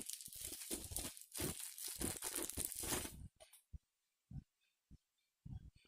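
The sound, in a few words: opening microphone's protective packaging cover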